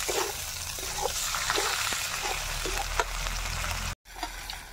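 Chopped tomatoes sizzling and frying in a pan for a home-style mutton dish, a steady close crackle with faint stirring scrapes, cut off by a brief gap near the end.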